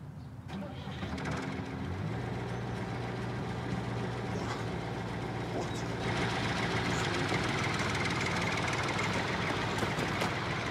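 A vehicle engine starts up and runs at a steady idle, its low drone continuing under a busy indoor drama scene where people talk.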